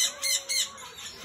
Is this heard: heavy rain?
no